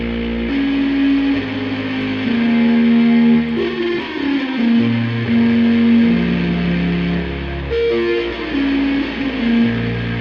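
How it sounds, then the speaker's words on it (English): Espresso machine sound reshaped into a distorted, guitar-like tone and smoothed with wide reverb, sustained droning notes shifting pitch in slow steps, loud and alone. "now that I have that kind of guitarish tone, I'm going to go to a reverb and kind of smooth it out with Reverb"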